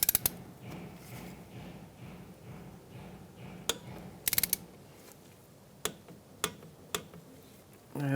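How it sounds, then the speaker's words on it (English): Torque wrench tightening a brake hose banjo bolt to 19 foot-pounds on a 2007-2015 Mazda CX-9, quiet close ratcheting ticks followed by several sharp separate clicks. "We can torque that down."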